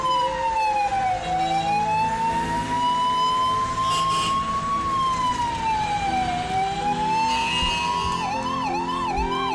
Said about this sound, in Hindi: 11:15 बजे एम्बुलेंस चल पड़ी।